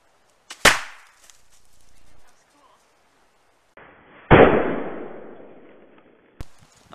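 A homemade exploding arrow fitted with a primer strikes a wooden board about 50 feet away, producing a sharp crack, then a louder bang with a decaying rumble, and a final short snap, with quiet gaps in between.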